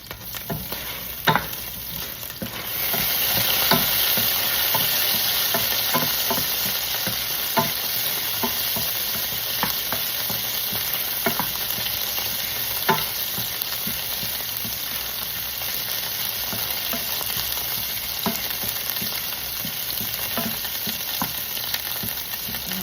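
Garlic sautéing in a pan as the first step of chicken adobo: a steady, close, loud sizzle with frequent scrapes and clicks of stirring, starting a little quieter before the sizzle swells after a couple of seconds.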